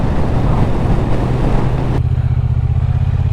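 A Triumph Bonneville T120 Black rides steadily through town, its engine a continuous low rumble mixed with rushing wind noise, the wind dropping away partway through while the engine drone carries on.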